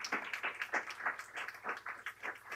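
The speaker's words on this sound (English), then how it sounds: "He deserves a round of applause" Audience applause after a speaker's tribute at a public announcement event, steady mixed hand clapping from a crowd at moderate distance, continuing without pause and with no talking over it.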